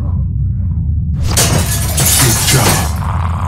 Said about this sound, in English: Use the bat to shatter that window so you can reach in, okay?